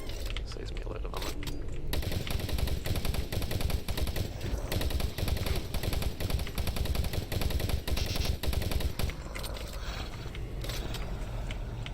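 Rapid automatic gunfire in Doom 3, dense repeated shots in long sustained bursts, loud and close, with brief gaps between volleys and game effects around them.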